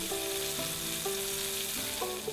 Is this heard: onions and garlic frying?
yes